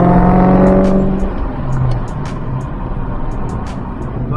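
A Ford Mustang Terminator Cobra accelerating hard, its engine a loud, steady roar heard up close that holds strong for the whole stretch with a slight dip partway through, and no voices.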